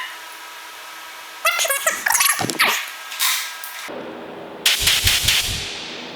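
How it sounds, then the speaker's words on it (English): A compressed-air gun fires short hissing blasts to pull down a hose reel, several sharp bursts with a pause and then another burst cluster, close and loud. "Pull down reel with air."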